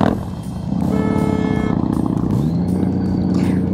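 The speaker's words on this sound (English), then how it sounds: "that horn was pathetic" A thin, weak horn on a dyno-tested vehicle sounds as a steady droning tone lasting a few seconds, close and fairly loud, with no talking.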